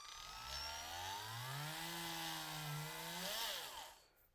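Power drill boring into strong plastic at rising speed, a steady loud whine whose pitch climbs and holds before dropping off as the bit stops, with no talking.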